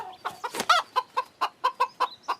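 A hen clucks in a quick run of about ten short, bright calls, close and fairly steady in rhythm, with no voices over them.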